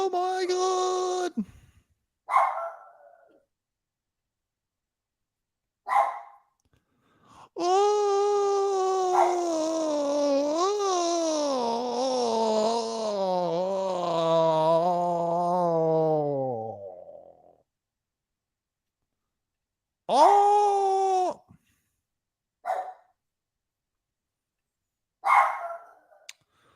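Mocha, a pet dog, whines in a long, high, wavering cry, then gives several short sharp barks separated by silence, close and loud.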